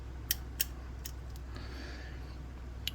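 Snips on a miniature pack mule model, trimming a seam and a wonky spot on its nose: a few sharp, faint clicks, two close together at the start, then scattered single snips in a quiet room.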